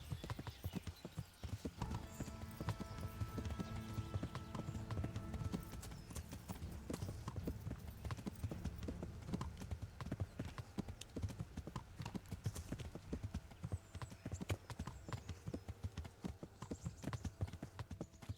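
Hooves clip-clop in steady rhythm as a horse walks along in Kingdom Come: Deliverance, a long, even run of close hoof beats over low ambient game sound.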